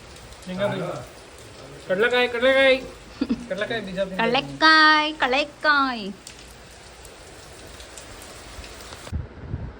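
Heavy rain falls at a house on the day of a Varamahalakshmi celebration, a steady wash of noise beneath someone talking for several seconds before the downpour carries on alone.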